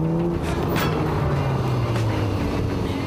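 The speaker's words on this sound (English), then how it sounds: "This is a 1987 Ferrari Testarossa. It has 2 6-cylinder engines, which makes it a V12." A 1987 Ferrari Testarossa with a flat-twelve engine drives steadily, its loud, continuous engine drone holding a droning tone that slowly drops in pitch over about three seconds, with no talking.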